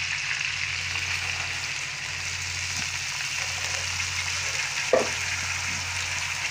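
Chopped carrots and beans frying in a pan for vegetable fried rice give a steady, close sizzle that hisses evenly throughout, with a couple of soft clinks near the end.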